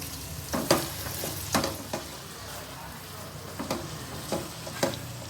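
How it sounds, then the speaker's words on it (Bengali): Prawns fry in a pan for a cashew prawn curry, a faint steady sizzle broken by soft stirring scrapes every second or so. "চিংড়ি মাছ বেশি ভাজলে রাবারের মতন হয়ে যায়, অল্পই ভাজবো।"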